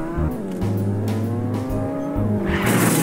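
Video game car engine droning steadily throughout, with harmonic engine tone shifting pitch and a brief gear-like break midway, rising into a brighter, noisier rush near the end; no talk.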